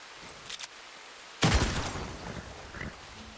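Gunfire in the video game Red Dead Redemption 2, heard as a single sharp, loud shot followed by a rumbling tail, with softer pops both before and after it.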